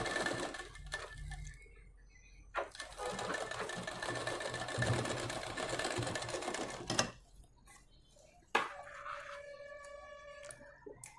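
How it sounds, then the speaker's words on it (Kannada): A sewing machine stitches a blouse in long steady runs, with short pauses and the clicks of the fabric being repositioned between bursts, up close and without any talk. "ಲಾಸ್ಟ್ ಎಂಡಿಂಗಿಗೆ ಒಂದು ಸ್ಟಿಚ್ಚನ್ನು ಹಾಕಿ"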